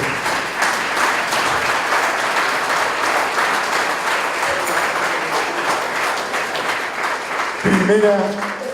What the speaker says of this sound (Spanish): Qué bonitos aplausos para Dios.